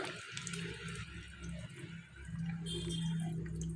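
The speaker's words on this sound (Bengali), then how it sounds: "সুন্দর একটা ক্যারামেল তৈরি হয়ে গিয়েছে তো এবারে আমি দিয়ে দেব দুধ" Milk poured into molten caramelised sugar in a pan while making homemade sweet yogurt, giving a steady watery pouring and bubbling hiss that runs continuously and grows a little louder toward the end.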